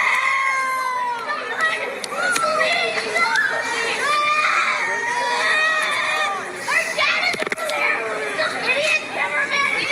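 Excited children shout and cry out over a busy, chattering crowd, their high voices rising and falling continuously and fairly close, with adult talk mixed in throughout.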